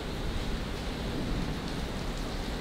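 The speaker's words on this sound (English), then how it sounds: "It's raining right now." Steady rain falls outside, a dense even hiss with no breaks throughout, moderately loud and with no talk over it.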